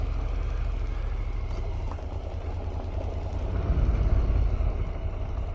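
A Honda NC750x motorcycle engine drones and howls while riding on Michelin Road 5 tyres, with a loud, continuous low rumble and wind roar that swells slightly toward the end.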